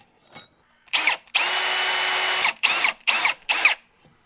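Power drill boring a hole through a homemade copper pipe cable lug, heard up close and loud: a short whir, a sustained grinding drill run of about a second, then three quick bursts with brief pauses between, no talking.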